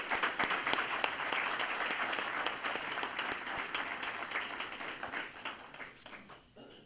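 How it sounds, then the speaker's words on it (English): Audience at a county sheriff's foundation awards ceremony applauding, a sustained crowd of hands clapping at moderate distance that gradually thins and fades toward the end. "how about a round of applause for Bill?"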